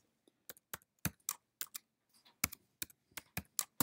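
Computer keyboard keys pressed while entering a password, a quick irregular run of about fifteen sharp, close clicks with brief pauses between bursts, no speech.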